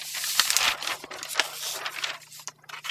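Paper pattern for pants being folded in half from hem to waist, close crinkling and rustling with several sharp crackles, then quieter handling near the end.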